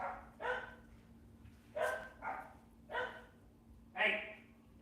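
A dog barks several times in short, separate bursts at moderate distance, with a faint steady hum underneath.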